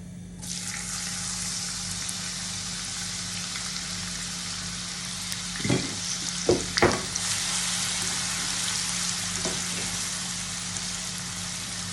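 Steady sizzling of onions frying in a pan, continuous and close, with a few brief clatters of stirring partway through.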